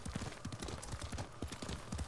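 A horse gallops in Ghost of Tsushima, its hooves drumming in a quick, steady clip-clop rhythm, close and fairly loud, running for the whole stretch.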